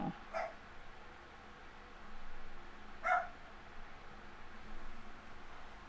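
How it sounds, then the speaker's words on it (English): Dog barking off in the background, a couple of short distant barks spaced a few seconds apart over a faint noisy room. "She's probably barking because her brother's outside barking at the neighbor dog."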